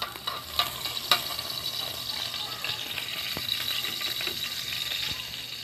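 Chopped garlic frying in hot cooking oil in a pan with a steady sizzle and crackle throughout, a few sharp clicks of a utensil against the pan near the start, close and fairly loud with no talking.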